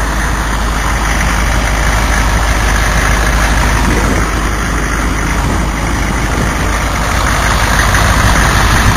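A 6.2 liter Detroit Diesel engine fitted with a custom 6-inch to 4-inch air intake and a 4-inch filter runs steadily with a loud, continuous heavy rumble and no talk.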